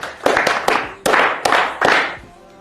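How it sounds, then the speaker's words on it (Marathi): Classroom applause from students for a classmate's answer comes as several short bursts of clapping, close and lively, each burst fading quickly before the next starts. "सर्वांनी टाळ्या वाजवायच्या"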